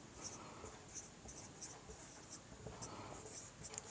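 Pen writing on paper during a geometry proof in a class 9 maths lesson, soft continuous scratching strokes with small ticks, close but quiet, a voice speaking faintly in places.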